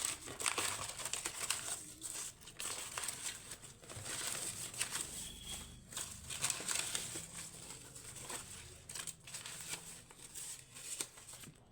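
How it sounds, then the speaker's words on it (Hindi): Tarot cards are shuffled and several are drawn from the deck, making a continuous close, quiet rustle and papery flutter with small irregular pattering bursts throughout, and no voice. "यहाँ पर कुछ कार्ड्स निकालते हैं"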